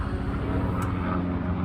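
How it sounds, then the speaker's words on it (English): A helicopter passes overhead outdoors, a steady low rumbling drone that stays constant and fairly loud throughout. "Helicopter, sorry about the noise."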